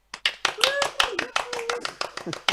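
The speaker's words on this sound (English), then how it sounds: "Round of applause, Jimmy Longmuir." Audience applause at a comedy show as an act is introduced, with distinct, loud individual claps in an uneven rhythm and voices talking over them.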